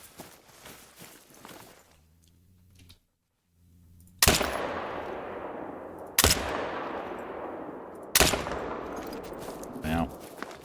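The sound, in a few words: rifle gunshots while hunting in theHunter: Call of the Wild video game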